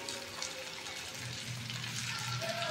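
Chicken and spices, with salt, turmeric, chilli powder, coriander and cumin powder, fry in a pan for a chilli chicken dish, giving a steady close sizzle with occasional stirring scrapes and no talk.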